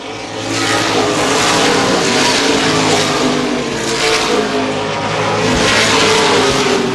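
Late model sportsman race cars roar around an oval speedway in the Gold Cup 50, a loud, dense wall of engine noise that swells and surges as the pack passes close.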